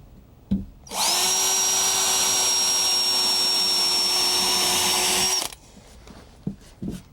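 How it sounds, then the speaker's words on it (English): A power drill bores a pilot hole into an attic floor board, spinning up sharply into a loud, steady whine that holds for about four and a half seconds before stopping abruptly, with faint knocks around it. "Let me drill a pilot hole right here."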